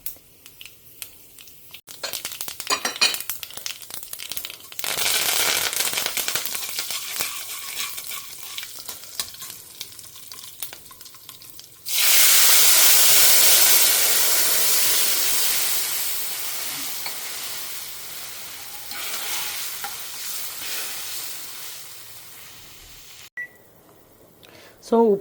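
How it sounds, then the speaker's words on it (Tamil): Mustard and fenugreek seeds crackle and splutter loudly in hot oil, a dense sizzling that surges midway then gradually settles, with brief stirring and clatter around it. "தாளிக்கிறதுக்கு கடுகு வெந்தயம் போட்டிருக்கேன்"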